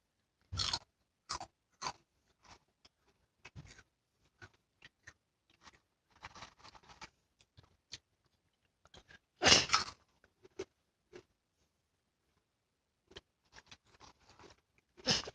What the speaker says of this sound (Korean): 그냥 맛있게 먹어요